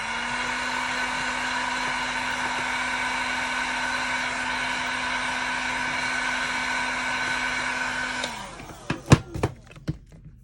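Heat gun warming resin tape so it can be peeled off, a steady airy blower roar held for several seconds, then switched off and followed by a few sharp knocks and handling sounds.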